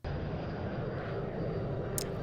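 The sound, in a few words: airplane in a movie scene from The Da Vinci Code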